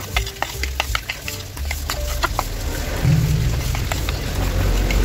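Crispy fry breading mix with cornstarch being stirred in a bowl, ready for coating milkfish: soft scraping and clinking strokes repeat at close range over a steady background hiss, with no talking.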